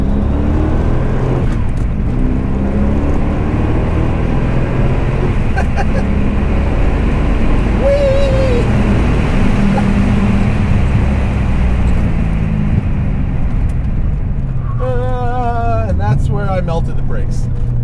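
A 1988 Callaway Twin Turbo C4 Corvette accelerating at full throttle on a track through three gears, a loud continuous engine roar with a rising whine near the end, under in-car talk.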